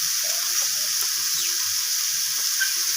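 Soybean chunks frying in a pan with salt and ginger paste while being stirred, a steady close hiss of sizzling with soft scraping and clinking from the stirring throughout, no voices.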